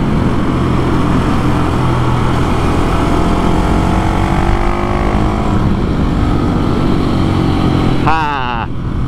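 A 701 motorcycle engine heads downhill with a loud, close, steady drone and shifting whine that changes pitch as the revs move, and the rider speaks over it.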